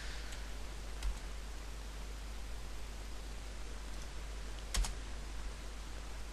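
The Return key is pressed on a computer keyboard during a web server software installation, with two faint, isolated key clicks over a steady hiss.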